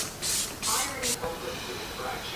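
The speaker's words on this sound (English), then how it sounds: "It's giving you a really good spray" A makeup setting spray mister releases three quick, close hissing bursts in a row, followed by a softer fading spray under faint room noise.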